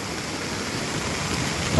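Floodwater rushing along the very edge of a canal during flooding in Punjab, a steady, loud broadband roar of moving water that holds constant throughout without any speech.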